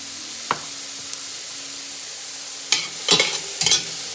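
Vegetables for egg rolls, salted, sweat and sizzle in a pan with a steady frying hiss, broken by a few clanks and scrapes of stirring near the end.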